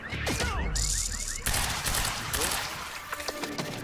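Gunfire in the video game Quantum Break: loud bursts of rapid shots and impacts, dense and continuous over a busy game soundtrack, with whooshing effects layered in.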